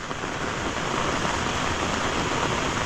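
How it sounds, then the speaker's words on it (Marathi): Heavy rain falls outdoors beside a small dam as a broad, steady roar of water. The wash is loud and continuous, with faint wind buffeting and no talking. "इकडे एक छोटासा डॅम आहे आणि भरपूर पाऊस पडतोय"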